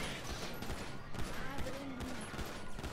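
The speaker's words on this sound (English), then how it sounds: "I just shot the cop." Pistol shots in a chaotic fight scene, a rapid flurry of cracks over busy background noise, with shouting voices mixed in.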